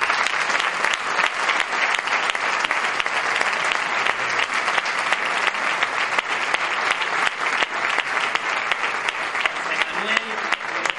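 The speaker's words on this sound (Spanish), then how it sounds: "queremos que quede constancia del aplauso que también se le da" A concert hall audience at a band's 25th anniversary concert gives sustained, loud, even applause that runs without a break, with a voice briefly audible near the end.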